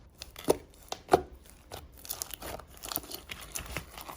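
Homemade slime mixed with shaving foam is squished and pressed by hand, giving soft repeated crackly, crinkly squelches with a few sharper pops, close and fairly quiet.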